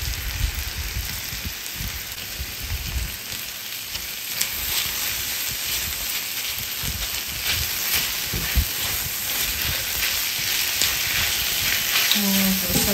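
Garlic sizzling and frying in a pan while cooking a young bull and vegetable stew, a steady loud crackling hiss throughout with occasional stirring clatter, no talking.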